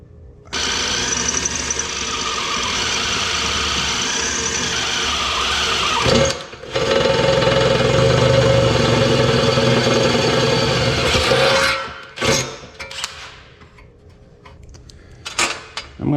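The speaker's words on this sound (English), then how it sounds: "We'll just drill another hole." A power drill bores another hole through metal in a workshop while stripping down an 880, whining steadily and loud for several seconds, briefly pausing, then running again before stopping with a few short bursts.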